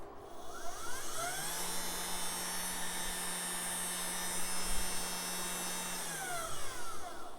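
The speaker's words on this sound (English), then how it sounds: "tell it to go top speed, motor starts spinning up to top speed" Motor on a DIY Arduino and GRBL-controlled CNC machine spins up to top speed, a steady high-pitched electric whine and hum that ramps up, holds evenly for several seconds, then winds down near the end.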